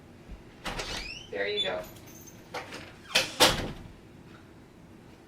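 A door in a home is opened, with a few sharp knocks and latch or sliding clatters spread across the moment, mixed with someone speaking close by.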